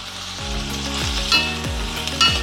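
Onion and tomato sautéing in a pan for a bajra dosai side dish, a steady close sizzle with rhythmic scraping stirs of a spatula about every half second, no voices.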